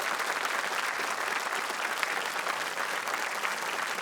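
An audience at a concert event gives steady applause for a family, a dense, even roar of many hands clapping together, moderately loud and unbroken.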